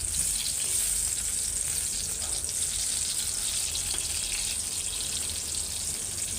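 Eggs and potatoes frying in a pan, a loud, dense, continuous sizzle that holds steady throughout with no talking.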